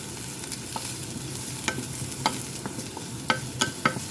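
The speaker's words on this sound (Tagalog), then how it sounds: "Ang bango talaga guys pag nagisa ng mabuti." Chopped onion and plenty of garlic sauté in a pan with a soft hiss, punctuated by sharp, close scrapes and clinks of a spatula stirring irregularly; no voices.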